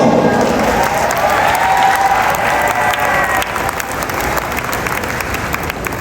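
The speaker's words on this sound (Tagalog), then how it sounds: "Isa muling malakas na palakpak para kay Attorney Lambino." A crowd at a political rally applauds an attorney from the Duterte PDP Laban lineup with loud, sustained clapping and scattered cheers that continue steadily throughout.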